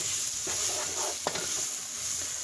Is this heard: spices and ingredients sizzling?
yes